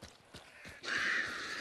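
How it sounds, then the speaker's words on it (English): Crows in the game Hunt: Showdown burst into cawing and flapping alarm after a few soft footstep-like thuds, the harsh calls rising suddenly and holding loud to the end. "Watch out for the crows."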